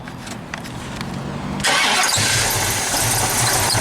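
A hot rod's engine cranks briefly, then catches and fires into a loud, rough, steady idle that fills the rest of the moment.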